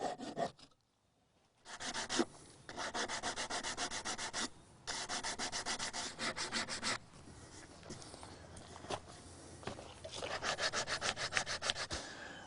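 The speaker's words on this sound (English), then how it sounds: "then sand the edges smooth." Wooden edges of a rustic bench are sanded by hand in close, rhythmic rubbing strokes, with bursts of rapid scraping separated by short pauses and one near-silent gap early on.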